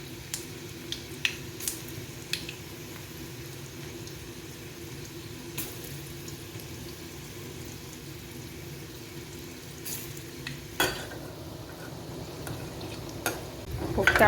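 Vegetable kofta balls deep frying in hot oil as a soft, even bubbling hiss, with scattered sharp pops and a few utensil clicks, fairly quiet and without speech.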